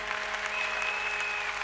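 A church congregation claps together in a sustained, even burst of many hands, with a faint tonal whine running through it.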